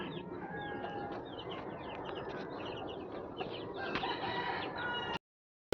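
A rooster crows repeatedly among broiler poultry chickens, with overlapping crows and clucks from several birds over a dense, steady flock din, close and continuous until it cuts off near the end.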